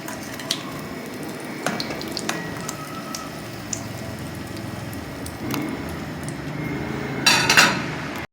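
Beef stick boti frying in oil, a continuous soft sizzle close by, dotted with clinks and taps of utensils and a louder clatter and bubbling toward the end.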